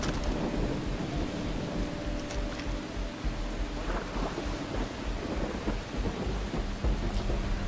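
Steady rain pours down with low rumbling thunder rolling underneath in the video game Far Cry 3, a dense continuous wash of sound with no voices.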